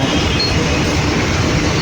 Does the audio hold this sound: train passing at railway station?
yes